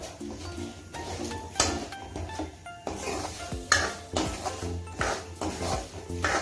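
Jaggery melts in ginger juice in a pan over a low flame, with a spoon stirring and scraping and soft clinks of cookware repeating throughout, over steady background music.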